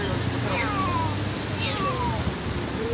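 A kitten rescued from a tree by emergency service workers meows twice, each cry a clear falling call over steady background noise.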